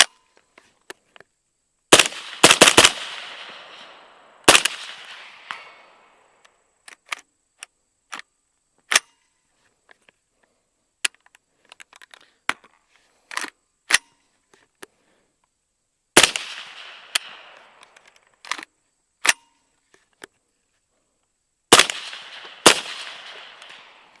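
An IWI Carmel rifle, suppressed, fires steel-case rounds in uneven bursts of sharp cracks with metallic clatter and short pauses between strings, close and loud.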